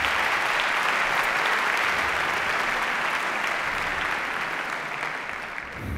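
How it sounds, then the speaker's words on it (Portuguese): A TEDxPorto audience claps loudly and steadily for six seconds, a dense wash of many hands that eases slightly near the end. "Uma salva de palmas"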